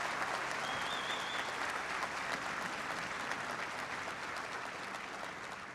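Troops at a US base in Afghanistan applaud steadily and loudly, a dense, sustained wash of clapping from a large crowd that holds for nearly six seconds with only a slight easing toward the end.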